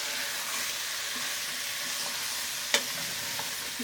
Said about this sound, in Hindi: सब्जियों को फुल आंच पे 2 मिनट भून लेंगे।